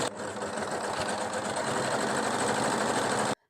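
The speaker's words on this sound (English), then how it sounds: "I'm going to move on to my mum's overlocker because this is going to take me forever" An overlocker sewing machine runs at a steady, fast, buzzing pace, close and loud, for about three seconds before stopping abruptly, with no talk.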